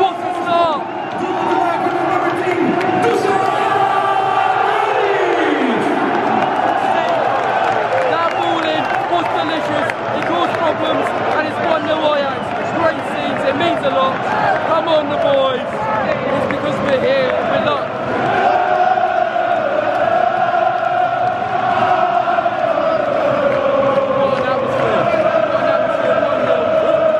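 Stadium crowd of Ajax fans cheering during a match against Borussia Dortmund, a dense, sustained roar of many voices that swells and surges throughout, with a commentator talking over it.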